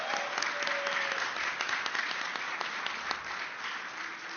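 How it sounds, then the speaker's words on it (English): An audience at a Libertarian Party presidential debate in Illinois gives a round of applause, steady dense clapping throughout with faint crowd murmur, moderately distant. "give a round of applause for them"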